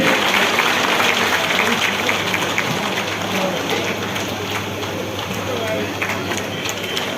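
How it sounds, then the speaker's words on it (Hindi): Loud, dense clapping from a crowd at a political election rally in Poonch welcoming Rajnath Singh, a rain-like roar of hands over a low steady hum, softening slightly toward the end. "जोरदार तालियों से श्री राजनाथ सिंह का स्वागत करें।"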